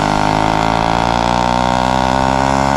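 A motorbike engine drones loudly and steadily at close range high in the Himalayan mountains of Nepal, holding an even pitch with no break.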